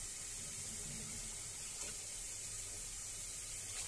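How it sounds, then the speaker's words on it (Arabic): Tap water runs steadily into a sink while taro is washed, a continuous soft hiss of flowing water with a faint knock partway through and no talking. "انا طبعا من انصار اغسلي القلقاس"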